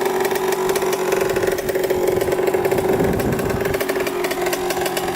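A cheap dirt bike engine idles steadily, a close, continuous mid-pitched putter with a fast, even firing rhythm and no talk over it.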